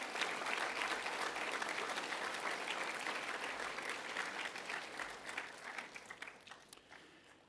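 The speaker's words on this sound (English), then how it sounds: "I would like you to offer a round of applause in their absence" Steady applause from a school assembly audience during the first week of term, dense clapping at close range that gradually thins and fades toward the end.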